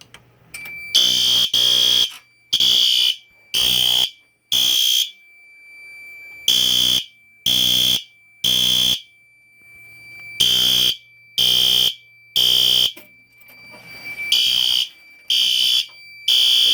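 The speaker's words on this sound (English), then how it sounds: "as you can see, the smoke detector is activated" A smoke alarm under test blares in loud, piercing beeps, repeating in bursts with short pauses between groups, close by and alone.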